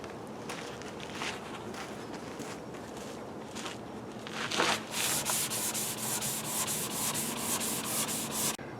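Sandpaper rasps against the bodywork of a 2010 Ford F-150 in repeated back-and-forth strokes, growing louder and faster partway through.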